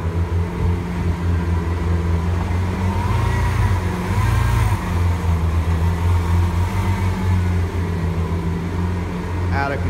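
A Lamborghini Aventador S, a 740-horsepower car, rolls up with a steady, loud engine drone that swells into a rev midway, while people talk over it.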